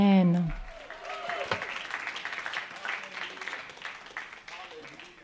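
Applause from a church audience during a Christian worship service, a brief burst of clapping that rises and then tapers under a voice speaking over the crowd.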